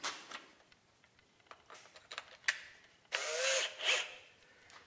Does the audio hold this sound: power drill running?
yes